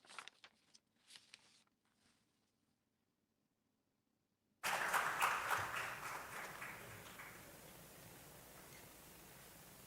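Audience at the official launch of the Nigeria Gender County Programme breaks into applause after a near-silent pause, starting suddenly and fairly loud, then thinning and trailing off into scattered claps.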